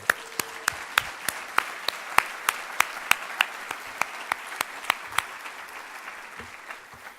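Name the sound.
conference audience applauding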